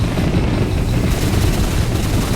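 Rapid gunfire from a blocky Minecraft-style video game, a loud, dense burst of shots running continuously through the whole stretch with no pauses or speech.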